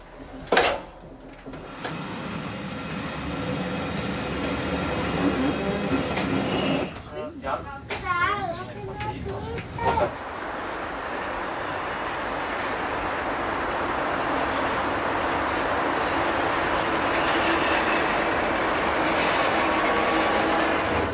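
Bernina Express train climbing a steep Swiss mountain line toward Ospizio Bernina, a steady rumble of wheels and carriage noise that grows fuller and louder toward the end, with a short stretch of voices partway through.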